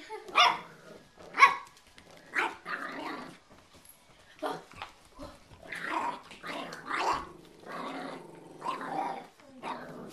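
A puppy barks and growls repeatedly, close by, in a busy stream of yaps and snarls with only brief gaps.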